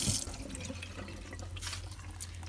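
A sticky pad being wetted in water gives soft, close splashing and trickling that is louder at the start, then continues as a steady watery wash with faint drips.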